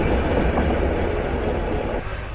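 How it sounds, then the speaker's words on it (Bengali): Chitra Express intercity train in Bangladesh rolls along the rails after leaving Ibrahimabad junction, a loud, steady, close rumble of wheels and carriages that eases slightly near the end. "আন্তঃনগর চিত্রা এক্সপ্রেস যাত্রা শুরু করলো আমার জেলা রেলওয়ে স্টেশন টাঙ্গাইলের উদ্দেশ্যে"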